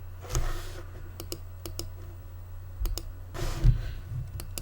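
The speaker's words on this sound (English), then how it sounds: "I can do a right click." A computer mouse gives a series of sharp, close right-clicks, single and paired, scattered over a quiet background hum.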